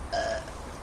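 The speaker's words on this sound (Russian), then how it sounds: "Нет, отрыжка батл." A single short, fairly loud burp during a burping contest, alone with no talk.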